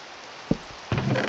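Rain falling in the video game Minecraft makes a steady, soft hiss, broken by a single brief knock midway and a louder swell of noise near the end.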